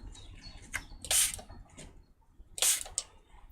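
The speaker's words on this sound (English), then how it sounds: "So I'm just going to spray that" Two short hissing bursts of a spray bottle misting water onto drying paint and craft sponges, each lasting about a quarter second, close and clear against a quiet room.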